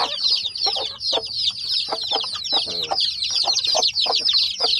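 Hens in a coop cluck and chatter without pause, a dense overlapping flock of close, fairly loud calls with a rapid irregular rhythm.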